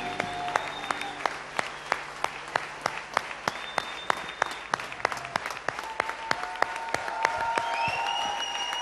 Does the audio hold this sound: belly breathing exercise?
no